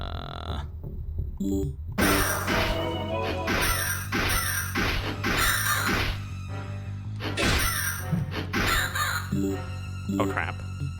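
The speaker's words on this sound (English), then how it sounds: "Murder crows. I cast crow on you." A crow spell in the House of Necrosis video game sends out a run of loud, harsh caws, repeated in bursts over about ten seconds, with talk underneath.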